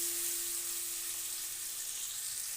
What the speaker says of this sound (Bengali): ট্যাংরা মাছটা দিয়ে দিলাম। দিয়ে তেলের সাথে মিশিয়ে নিলাম, একটু নাড়িয়ে নিলাম।